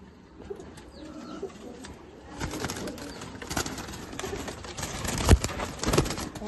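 Pigeons coo and rustle inside a loft, soft murmuring calls that grow busier with flutters and scattered chirps partway through, heard fairly close against low background noise.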